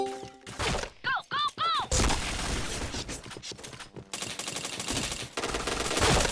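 Dense, rapid gunfire from the online shooter Point Blank rattles in close, loud bursts, broken by a few short whistling game effects early on, then carries on as almost continuous firing.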